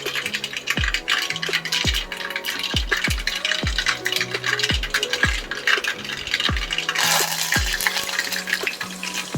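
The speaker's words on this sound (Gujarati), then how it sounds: "રાઈ થોડી તતડવાય છે" Steady crackling and rapid popping of mustard seeds spluttering in hot oil for a khaman tempering, with repeated sharp knocks punctuating the sizzle at a regular pace.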